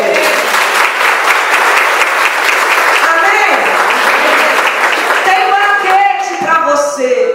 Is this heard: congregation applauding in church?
yes